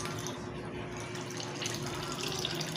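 Evaporated milk is poured into a pot of champorado, a soft continuous liquid stream heard faintly under a low steady hum, with no talking.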